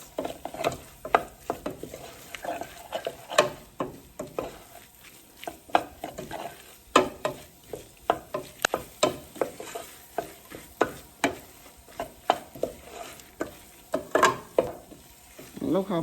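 Curry powder and turmeric cook down in a pot for curry goat, giving a soft, quiet sizzle broken by repeated sharp scrapes and clinks of a spoon stirring against the pot.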